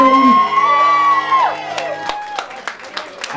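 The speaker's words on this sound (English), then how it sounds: "round of applause for our bride's groom." Wedding guests break into applause and cheering after a call to honour the bride and groom, a lively crowd of claps, whoops and shouts filling the room beneath a fading sustained music tone.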